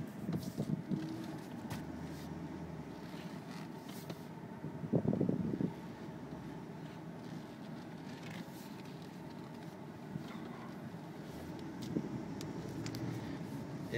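A 2005 Dodge Ram Quad 4x4 pickup driving on a hot day in Tucson, heard as a steady, low cabin rumble of engine and road noise with light wind. The sound is fairly quiet and even, with no talk.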